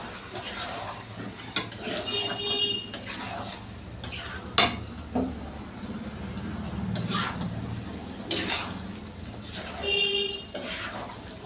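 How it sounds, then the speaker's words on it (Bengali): Chicken for chicken biryani stirred in a cooking pot, a spoon scraping and clinking against the metal in uneven bursts, fairly close, over a low steady background with no talk. "এবার আমি চিকেনটাকে ভালো করে মিশিয়ে নেব"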